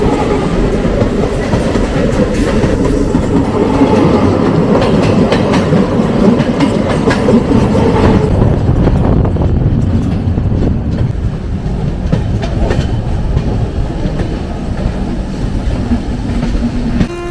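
Train 15629, the Chennai Egmore–NJP express, rolls into Nellore Junction in Andhra Pradesh with a loud, continuous rumble and rhythmic wheel clatter over the rails, close by and with no voices.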